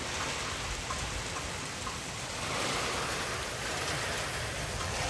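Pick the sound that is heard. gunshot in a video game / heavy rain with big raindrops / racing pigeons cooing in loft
heavy rain with big raindrops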